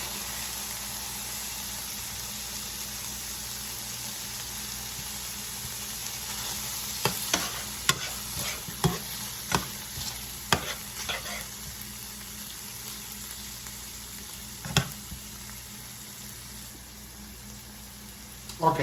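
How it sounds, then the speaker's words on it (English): A stick of butter melts in a pan with a soft, steady sizzle and faint bubbling, broken midway by a run of sharp clinks and scrapes from a utensil, close and fairly quiet. "Now, put a stick of butter."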